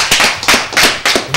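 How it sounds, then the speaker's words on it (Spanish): A lucha libre wrestling show crowd claps for a wrestler's entrance: a short burst of loud, close, crackling applause in several surging waves, sharp and uneven, with no talk over it. "¡Fuerte el aplauso!"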